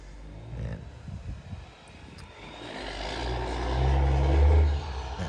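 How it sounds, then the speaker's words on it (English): Heavy dump trucks rumble past on a road, a low engine roar building to a loud close pass near the end, with continuous broadband road noise throughout. "The dump trucks."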